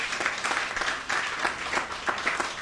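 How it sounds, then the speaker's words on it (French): Audience applause for a singer and a saxophonist at a tribute ceremony in French Guiana, brisk clapping with audible individual claps pulsing unevenly at moderate volume. "Vous pouvez les applaudir"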